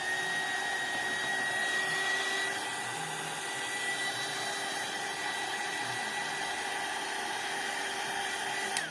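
A hair dryer blows steadily at close range onto craft paste, a constant whirring rush of air with a faint motor whine, loud and unbroken, with no one speaking.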